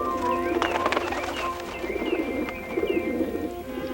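Pigeons cooing in a forest while pecking at breadcrumbs, soft repeated throaty coos with some chirps layered over a low background, fairly close and continuous, with no talking.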